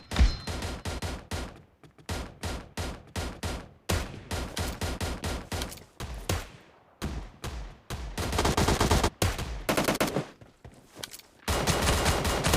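Gunfire in the mobile battle royale game PUBG Mobile, loud rapid bursts of automatic shots with brief pauses between volleys, continuous near bursts toward the end.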